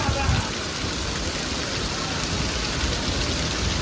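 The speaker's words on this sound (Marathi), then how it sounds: "दिसतो ना आला पाऊस" Heavy rain pours in a dense, even roar that holds steady throughout, close and loud with no pauses.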